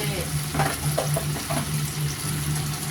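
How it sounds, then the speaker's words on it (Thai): Hong Kong style beef stir-frying in a hot pan with sugar added, giving a steady loud sizzle with scraping stirring strokes throughout, no talk. "ผัดก่อนนะคะ ใส่น้ำตาล"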